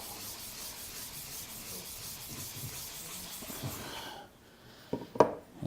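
A blade is honed on an extremely fine 16,000 grit sharpening stone, making a quiet, steady rhythmic rubbing that stops near the end and gives way to a few small knocks.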